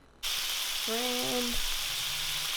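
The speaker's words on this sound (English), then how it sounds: "y'all see my little lamb chop? That sizzle, that sizzle." Lamb chops sizzle steadily in hot olive oil with garlic and thyme, a loud constant crackling hiss that starts abruptly, while someone speaks briefly over it.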